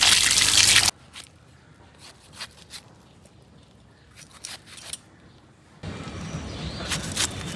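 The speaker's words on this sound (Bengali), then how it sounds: "এটা ধুয়ে নেই, তাহলে আঠাটা ছেড়ে যাবে।" Cut young jackfruit washed in water to clear its sticky sap: a burst of splashing, then quiet drips and small squishy handling noises, and a second stretch of sloshing and rinsing near the end.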